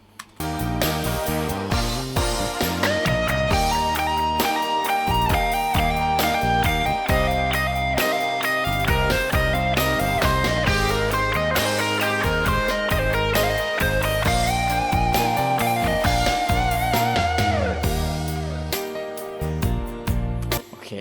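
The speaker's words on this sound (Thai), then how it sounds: "ปลั๊กอินดีเลย์ที่ผมใช้ในกีตาร์โซโล่ตัวนี้เสียงมันดีไหม" A melodic electric guitar solo with a Cubase delay plugin rings out over a full backing track, notes trailing into echoing repeats, playing continuously and loud throughout.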